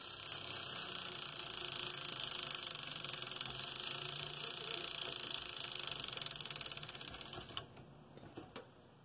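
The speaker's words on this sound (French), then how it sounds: "Ça, c'est un moteur, comme une horloge." An old spring-driven clockwork motor from around 1950 runs with a dense, steady mechanical whir and rapid ticking for most of the clip, then stops abruptly near the end, leaving a few faint clicks.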